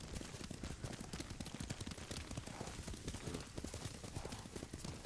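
Horse hooves clip-clop in a steady galloping rhythm as a rider travels in the video game Ghost of Tsushima, quiet and continuous under a wash of ambient game noise.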